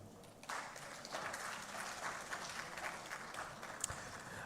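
An audience at a conflict prevention and sustainable peace forum breaks into applause for a session moderator, a faint, steady wash of clapping starting abruptly and continuing throughout.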